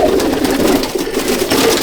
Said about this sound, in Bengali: এক ঝাঁক পায়রা, কিছু বাচ্চাও আছে।